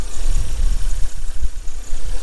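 A 1989 Volvo 480 engine idles after eight years sitting unused, a steady low rumble with uneven pulsing throughout, close and loud with no one talking.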